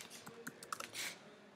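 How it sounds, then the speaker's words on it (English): Fingers type on a computer keyboard, a quiet, irregular patter of light key clicks with a brief faster flurry near the end, close and alone without speech. "So here I'm typing Google"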